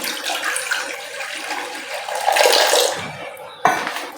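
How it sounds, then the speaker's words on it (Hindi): A glass of water is poured into a cooking pan, a splashing, gurgling stream that swells toward the end, then a sharp clink of the glass or pan near the finish, close and fairly loud. "कहवा बनाने के लिए यहाँ मेरे पास एक पैन है, उसमें मैं पानी ऐड कर रही हूँ 1 गिलास।"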